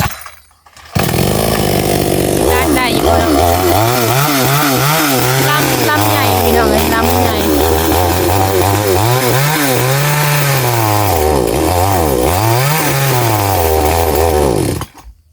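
A chainsaw cutting wood for fence posts runs loud and close for several seconds, its engine whining and bogging as the pitch rises and falls while it cuts.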